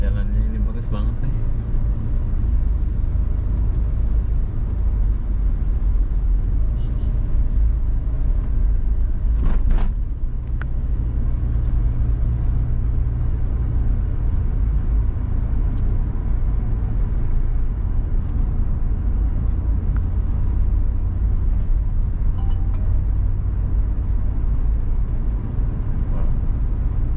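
Busy daytime road traffic of motorcycles and cars in Batam city, a constant low rumble and engine drone heard from inside a moving vehicle, with a passing truck and occasional louder passes.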